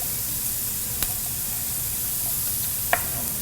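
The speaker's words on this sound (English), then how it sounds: "We're just gonna let the beef cook for a little longer because it takes longer." Beef fries for a stir fry with a steady, close sizzling hiss in the pan, with a couple of faint utensil taps and no talking.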